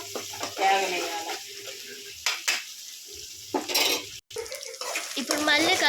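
Ginger frying in a pan is stirred with a utensil, giving intermittent scraping and clinking over a soft sizzle; someone talks across much of it.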